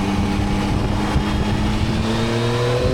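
A Yamaha Tracer 9 GT motorcycle engine drones loudly and steadily while riding, with the pitch rising smoothly as the throttle opens, close and continuous with no voices.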